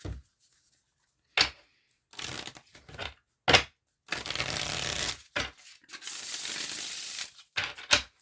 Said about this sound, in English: first I'm going to shuffle and lay out the tarot